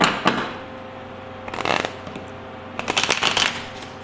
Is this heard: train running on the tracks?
no